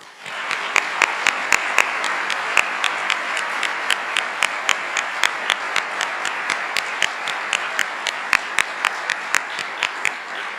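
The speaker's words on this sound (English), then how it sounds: "Round of applause." Graduation audience applauding rising faculty: loud, continuous clapping from a large crowd, with distinct sharp individual claps standing out near the front throughout.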